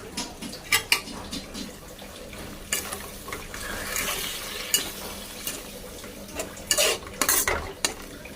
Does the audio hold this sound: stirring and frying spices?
yes